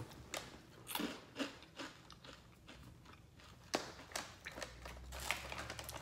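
Close crunchy bites and chewing of Peatos, a vegan pea-based puffed chip, with irregular sharp crackles and soft mouth sounds, no talking.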